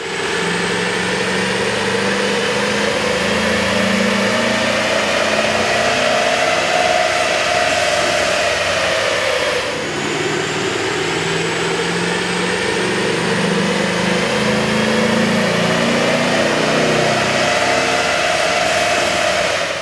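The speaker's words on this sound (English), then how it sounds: "we ran the vehicle and the dyno to test the sound comparison versus the stock intake" A Chevy Silverado 5.3L V8 fitted with an aftermarket air intake runs steadily on a dyno, a loud continuous engine roar with a broad intake rush that rises and dips slightly, with no talk.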